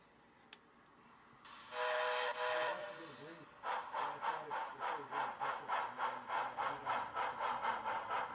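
An HO-scale model steam locomotive with a TCS WOW Sound decoder sounds a whistle blast, then settles into a steady rhythmic chuffing that carries on continuously at close range.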